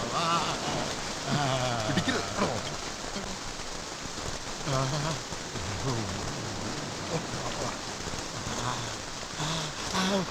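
Steady rain falls on surfaces throughout, a dense hiss beneath several people talking in a film scene.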